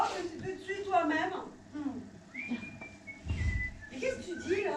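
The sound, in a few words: person whistling a tune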